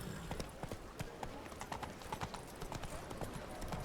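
Horse hooves in The Witcher 3: Blood and Wine clip-clop in a quick, even trotting rhythm, quiet and continuous throughout.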